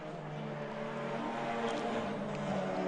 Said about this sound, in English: that Parker Thompson Audi sounds good, doesn't it? Wow, what a pretty sound. Watching him downshift into turn number 1